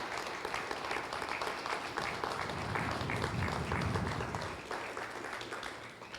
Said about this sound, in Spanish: Dale un aplauso al Señor si se lo quiere dar.